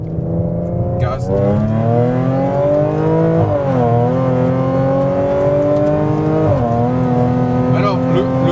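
A stage 3 ethanol-fuelled Audi S5 engine revs hard and close, its pitch rising and dipping through several sustained pulls with a loud, continuous tone throughout.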